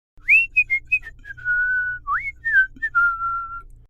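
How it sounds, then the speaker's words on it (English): A man whistles a lively, wavering tune alone, a string of short rising and falling notes followed by a few longer held ones, clear and close with a faint low hum underneath. "George walked out of the square whistling"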